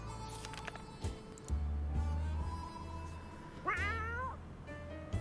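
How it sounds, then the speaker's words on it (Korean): Angry house cat yowling and meowing from inside a bag in the video game 60 Seconds!, several drawn-out wavering cries over a steady low game hum, with one loud rising-falling meow near the end. "18일차 고양이가 들어있었네요."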